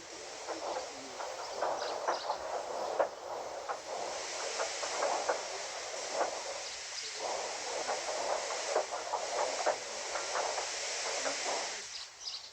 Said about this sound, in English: they uncoupled Gordon, who had enough puff to slink onto the siding out of the way